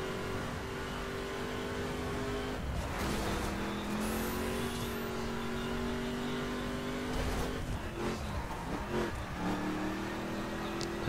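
A 2015 Ford Mustang GT Fastback in The Crew, its engine droning and revving steadily with shifts in pitch and a brief tyre squeal from wheel spin, heard alone without talk.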